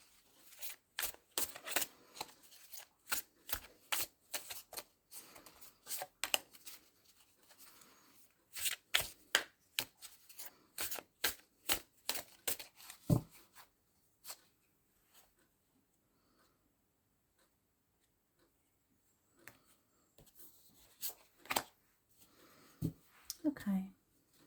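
Sticky oracle cards shuffled by hand make quick, close riffling bursts in clusters, with pauses, a stretch of near silence, then more shuffling. Brief handling noises come in between.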